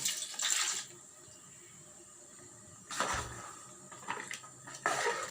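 Water poured from a cup into a pot of village-style chicken keema curry, heard as short splashing, clattering bursts at the start, middle and end with quiet kitchen hiss between them, close by with no talking.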